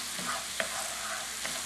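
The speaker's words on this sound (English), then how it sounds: "Look at those mushrooms. They're browning up really nice in the chicken fat." Mushrooms browning in chicken fat fill a pan with a dense, steady sizzle, with a few soft scraping stirs breaking through.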